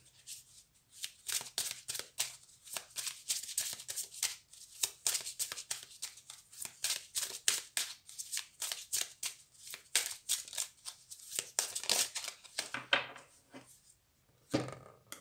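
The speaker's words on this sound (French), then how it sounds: "On va reprendre une carte. On va prendre une deuxième." Tarot cards shuffled steadily at close range, a long run of rapid crisp riffles and flicks before a second card is drawn, with no voices.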